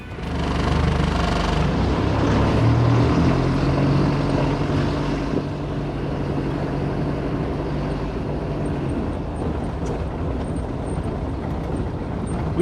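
A turbo diesel engine swapped into a Jeep Wrangler TJ pulls under light boost down a driveway, a loud steady drone that swells in the first seconds, then settles into a slightly quieter, even hum.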